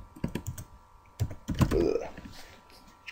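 Quick bursts of keystrokes on a computer keyboard, close and clear, coming in short clusters with brief pauses between them.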